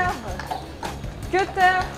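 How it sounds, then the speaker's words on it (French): A draft horse pulling a horse-drawn food-waste collection cart, its hooves clip-clopping steadily nearby under a person speaking French. "Cutter, le cheval de trait, attire les foules et ça tombe bien."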